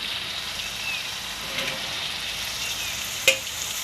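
Cabbage koftas fry in hot oil with a continuous bright sizzle and crackle, with a short sharp clink of a utensil near the end.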